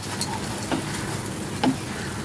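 Spice paste for poppy seed and onion curry frying in a pan after a small splash of water, giving a continuous sizzle with a few stirring scrapes and no voices.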